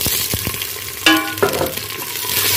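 Onions and tomatoes fry in a pan with a steady sizzle, broken by a couple of sharp bright clatters partway through, probably from stirring or the tomatoes hitting hot oil, with no voices.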